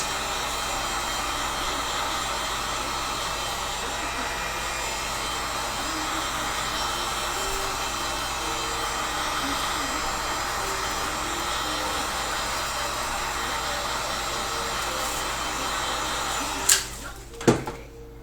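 A heat gun blows a steady, loud roar of hot air while softening PVC pipe for a Turkish-style war bow, continuous throughout with faint voice underneath and a couple of sharp clicks near the end.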